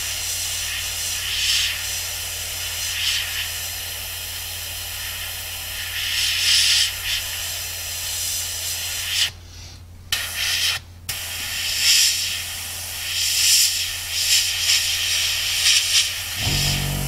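A steady airbrush hiss sprays paint in freehand camouflage over a scale model's fuselage, close and continuous, with two brief pauses where the air cuts off before resuming.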